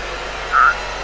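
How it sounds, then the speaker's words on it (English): A pink, pudgy turtle frog gives a single brief, tonal croak in the middle of a steady background hiss. "Got a turtle frog."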